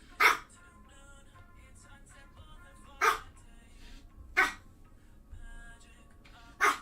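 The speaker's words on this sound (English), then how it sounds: "I'm live streaming. Can you not bark?" A dog barks four times, loud, single sharp barks spaced a few seconds apart, with a quiet room in between and no talking.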